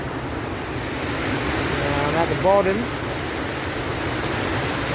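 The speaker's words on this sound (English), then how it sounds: "Got a bit of water coming over" Water pours steadily over the Warren Weir spillway in Australia, a broad, even rushing wash that holds throughout, with someone talking briefly over it.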